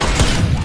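A single loud, close weapon blast from the Worms Revolution video game, a short booming burst with no voices.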